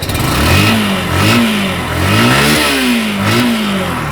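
A Yamaha YBR 125cc motorcycle engine revs repeatedly up close, its pitch rising and falling in several loud throttle blips over a rumbling idle.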